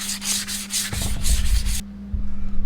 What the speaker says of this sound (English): just lightly hit it with some 180 just to make sure it's clean and ready to accept the glue for the new rubber wheel